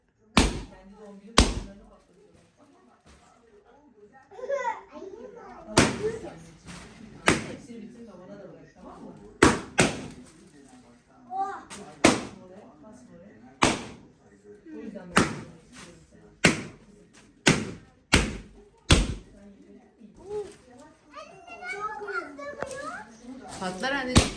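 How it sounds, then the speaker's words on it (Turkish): A series of sharp, loud pops ring out one after another at irregular intervals as confetti-filled birthday balloons burst, with children's excited voices and chatter throughout. "Konfetiler patladı."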